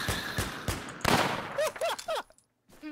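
Gunfire in a video game: several sharp bursts of shots in quick succession, loud and close, followed by whooshing tones and a short pause.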